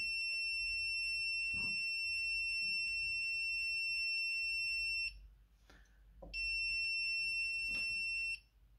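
A Sonoff SNZB-04 Zigbee contact sensor alarm sounds on opening: a loud, steady electronic beeping tone that runs for about five seconds, cuts out briefly amid a few clicks, then resumes for another two seconds.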